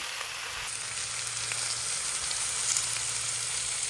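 Thick cabbage steaks searing in a hot pan, a dense, even sizzle held close and loud throughout with no talking.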